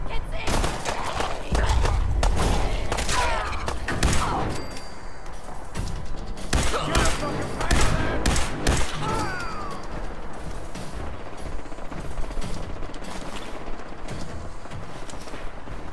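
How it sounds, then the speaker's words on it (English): Gunfire in Fallout 4 combat: repeated loud shots, crashes and impacts in quick bursts early on, then quieter game ambience, with someone talking over much of the action. "These, however, are not bullet sponges, and I'll gladly shoot a few."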